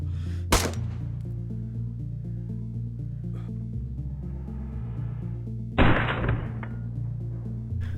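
Gunshots striking a player in the survival video game DayZ, two sharp booming impacts a few seconds apart, cutting through steady tonal game music.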